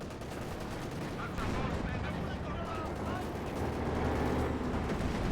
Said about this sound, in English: instant artillery from Farlion on the fort observation post